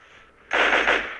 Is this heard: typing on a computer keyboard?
no